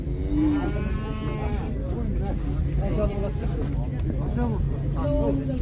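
Calves moo repeatedly at a busy cattle market, several drawn-out bellows near and farther off over a loud crowd murmur and engine rumble, with people talking throughout.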